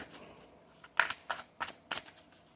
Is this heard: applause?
no